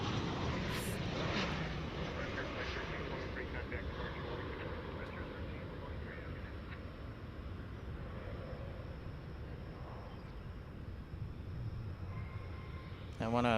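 An airliner in a Tide Pod livery passes at DFW airport, a broad, distant engine roar holding steady for several seconds, with a person talking over it.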